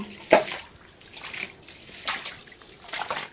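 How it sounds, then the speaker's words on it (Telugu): Water drains out of an irrigation canal being emptied for fishing, a soft trickle and sloshing with one brief splash near the start, faint and close. "నీళ్ళు దొడకుంది నీళ్ళ అయితే వెళ్ళిపోతున్నాయి"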